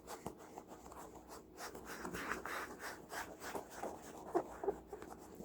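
A cloth buffs scratches off an Original Xbox game disc: quiet, close, steady rubbing and swishing strokes, with no talk.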